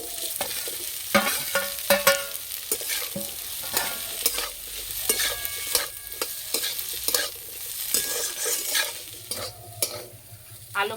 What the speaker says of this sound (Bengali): আলু ভালো করে ভেজে নিয়েছি